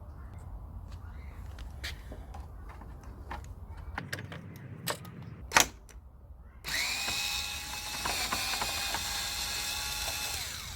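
An impact drill works on the fairing bolts of a Hyosung GT125R motorcycle, giving sharp clicks and knocks, then a loud sustained whirring burst that runs steadily to the end.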